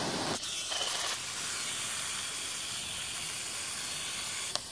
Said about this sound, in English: That's the, I guess, focus spray.